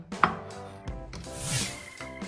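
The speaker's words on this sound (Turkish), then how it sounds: "Bütün sosislerimi böyle ikiye bölüp yağda kızartacağım" A knife chops sharply through sausages on a board, cutting them in half, several distinct cuts with brief pauses between them, close and crisp.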